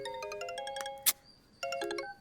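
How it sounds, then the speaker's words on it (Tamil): A phone rings with a bright chiming melody, a bar of ringtone notes, a sharp click, a short pause, then the tune starting again, clear and close. "Sir Radhika phone sir."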